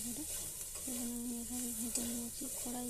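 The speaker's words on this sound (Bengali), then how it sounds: "এটাকে ভালো করে ভেজে নেবো মশলার সাথে" Soybean chunks fry with garam masala in a pan over a medium gas flame, a steady close sizzle mixed with stirring scrapes and a recurring humming tone.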